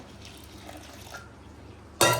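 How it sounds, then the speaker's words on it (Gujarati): Milk pours into a pan of chana masala in a home kitchen, a brief splashing gush that starts abruptly and fills the last moments after a quiet room-tone stretch. "હવે એમાં આપણે નાખવાનું છે દૂધ. તમે પાણી પણ નાખી શકો, હું આમાં દૂધ નાખું છું."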